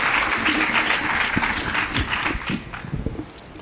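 Lively audience applause welcoming a poet onto the stage at a Hindi poetry gathering in Surat, a dense burst of clapping that fades slightly over a few seconds.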